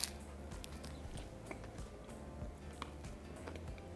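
Crisp bites and chewing of crunchy pickled jalapeños and carrots, close and quiet, with several small crunches spread unevenly across a few seconds and no talking.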